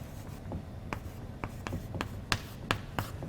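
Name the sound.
writing out an equation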